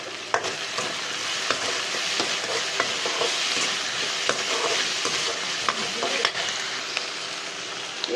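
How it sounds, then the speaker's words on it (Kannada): Onions with garlic frying in oil and being stirred in a pan for chicken heart and liver sambar, a continuous close sizzle punctuated by regular scraping and clinking of the spoon. "ಈರುಳ್ಳಿ ಸ್ವಲ್ಪ ಕೆಂಪಗೆ ಬೇಯಲಿ."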